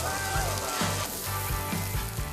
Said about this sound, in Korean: 이 지글지글 소리는 언제 들어도 참 좋은 것 같네요.